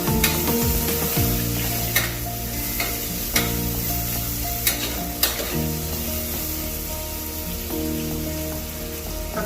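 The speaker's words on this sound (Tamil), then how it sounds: "தக்காளியும் வெங்காயமும் நல்லா வதங்கிச்சு." Onions and tomatoes sizzle steadily in oil for a chickpea gravy, with repeated scraping stirs and sharp utensil clicks against the pan. The frying stays close and constant throughout, with no voices.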